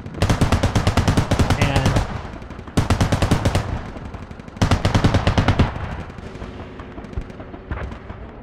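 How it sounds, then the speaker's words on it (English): A BTR armored vehicle fires on infantry in a military simulation video game. It lets off loud, rapid bursts of heavy automatic fire in three long strings separated by short pauses, and quieter battle noise follows. "BTR is now trying to lay into the infantry out on the east side."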